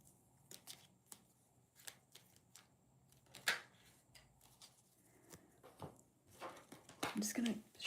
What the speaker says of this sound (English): I'm just going to shuffle them all.